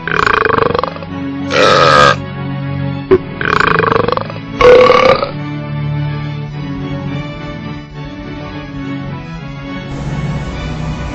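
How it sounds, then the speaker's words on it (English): Loud, drawn-out belches from a group of burping birds, a cryptid, as they take off in flight, with several long burps in quick succession followed by a lower, sustained groaning belch. "It shows a group of burping birds flying off, each one giving a large belch or burp as it took off."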